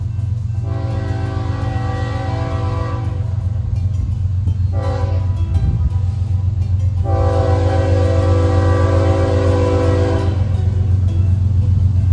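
A freight train with a trailing NS AC44C6M locomotive rumbles past steadily at close range while its horn sounds in three long blasts over the continuous low roar of the moving train.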